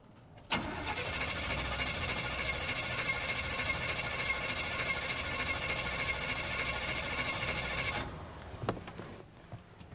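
An old square body truck engine cranks with a sharp start, then roars and runs steadily and loudly for several seconds before dropping off, followed by a few faint clicks.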